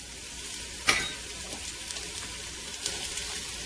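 Onions and garlic frying in oil in a soup pot, a steady close sizzle with a brief louder crackle as the food hits the oil, then continuous hissing with small pops.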